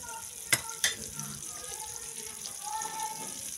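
Ginger added to a pan on medium heat, two sharp clacks as it drops in, then a soft, steady sizzle close by with light stirring.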